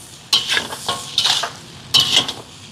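Seafood puttu kottu being stirred and mixed in a hot sizzling pan in Jaffna, Sri Lanka, three quick scraping strokes of a utensil against metal over a low frying hiss.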